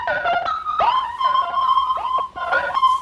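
A beat run through a cassette tape effect with dropouts, wear, compression, wow and flutter, a wavering high melodic tone that bends and dips in pitch over soft low drums, continuous and fairly loud.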